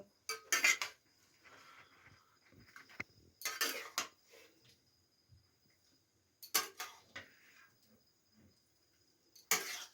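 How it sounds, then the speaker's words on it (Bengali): Cooked broccoli is scraped onto a plate with a utensil, giving a few sharp metallic clinks and scrapes in separate bursts with quiet pauses between them. "একটা প্লেটের মধ্যে আমি কিন্তু নামিয়ে নেব"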